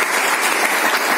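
Loud, dense applause from an audience at an event in Seoni, Madhya Pradesh, giving thanks to parents, a steady wash of clapping filling the whole moment with no pauses.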